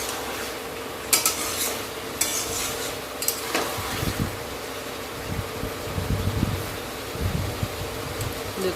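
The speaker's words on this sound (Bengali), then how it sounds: "তা আরও ভালো করে কষাবো, বেশ কিছুক্ষণ ধরে কষাবো।" Chicken stir-fried with spices in oil sizzles steadily while a utensil repeatedly scrapes and knocks against the pan, with a few sharp clinks and a faint fan hum beneath.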